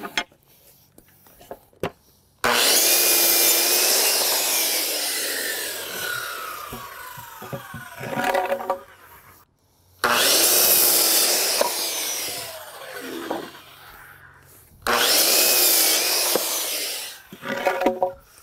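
A handsaw cuts lumber beside a wood pile while shed walls are built, three separate loud bursts of steady rasping strokes, each running several seconds with short pauses between, and no talk over them.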